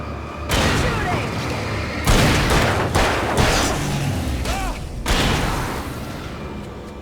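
Gunfire rattles in the action game Alan Wake, with several heavy bursts and booming shots over a dense, noisy battle background and a few short whistling effects.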